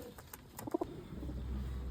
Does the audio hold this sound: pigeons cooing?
yes